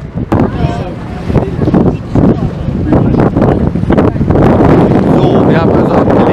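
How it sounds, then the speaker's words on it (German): A boat's motor drones steadily after casting off, buried under heavy wind buffeting on the microphone and water noise, with a voice talking over it. "welche große Enttäuschung, nicht segeln. Ein schnöder Motor."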